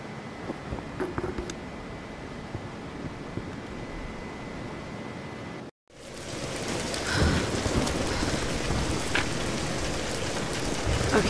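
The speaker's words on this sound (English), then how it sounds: "We're getting closer to the storm." Rain and low thunder of an approaching storm in a Tomb Raider game scene, a steady loud downpour that cuts out briefly and returns with heavier, rumbling rainfall.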